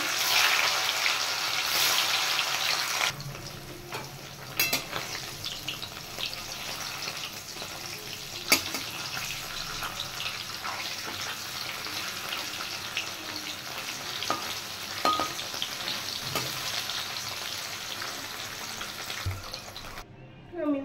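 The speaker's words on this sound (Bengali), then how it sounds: "প্রথমে আমি পনিরগুলো ভেজে নেব।" Paneer frying in a pan makes a continuous sizzle with a few sharp clinks and scrapes of stirring, moderately close, fading slightly midway and running for about twenty seconds with faint background voices.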